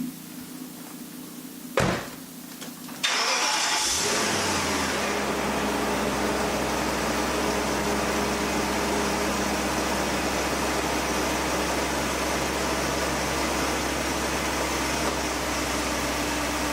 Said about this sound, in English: this is a cold start of my BMW 740i Sport